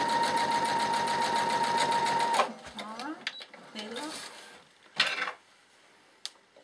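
A sewing machine stitches fabric in a fast, steady, loud mechanical whir that stops after about two seconds, followed by someone talking with a few small clicks and knocks.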